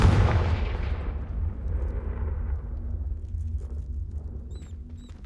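A fire spell cast in the video game Hogwarts Legacy gives a loud, booming blast that fades into a long rumbling decay, with a few faint chiming tones near the end.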